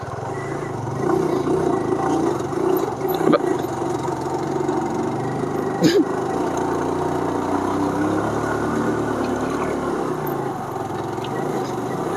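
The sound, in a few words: motorcycle engine while riding uphill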